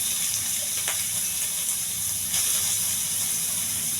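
Onions sizzling in hot oil in a pan while frying a ridge gourd dish, a steady broadband hiss that stays loud and even throughout with no talking.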